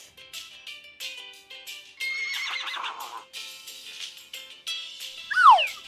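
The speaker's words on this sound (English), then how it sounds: "horse." A horse whinnies in a long, wavering series of neighs that rises and falls over several seconds, ending in a sharp descending squeal, loud and close with no talk.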